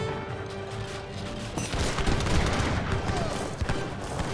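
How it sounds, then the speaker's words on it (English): In an Age of Empires 3 battle, falconet artillery and gunfire crackle in a loud, dense volley of bursts and booms, with a voice talking over the combat. "Good volley on the falconets"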